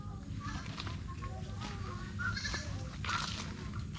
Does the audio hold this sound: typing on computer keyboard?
no